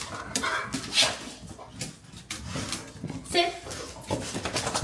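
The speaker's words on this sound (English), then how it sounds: "now the dogs are all excited" Several excited dogs bark and whimper in bursts close by, mixed with people talking over the commotion indoors.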